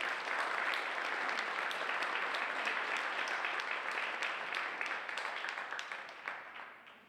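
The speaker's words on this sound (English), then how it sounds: "just a round of applause for the guys that are on the boots on the ground doing the work" Audience applause at a gun violence prevention summit, a dense, sustained crowd of clapping hands that stays loud for most of the stretch before gradually thinning and tapering off toward the end.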